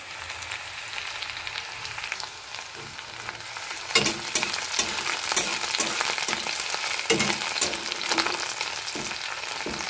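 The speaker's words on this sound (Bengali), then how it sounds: "অল্প লাল করে ভেজে নেব পেঁয়াজটা" Onions frying in a pan, a steady sizzle and crackle of oil that grows louder partway through, with occasional stirring scrapes and no talk.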